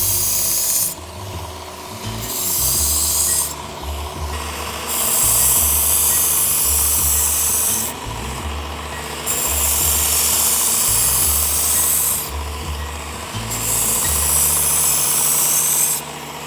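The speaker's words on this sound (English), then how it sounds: "Could have used a stone, I used a belt sander" A belt sander grinds a dull knife blade back to a fresh edge, giving a loud, steady rasping hum broken by several repeated passes, each surge of grinding lasting a few seconds with brief dips between.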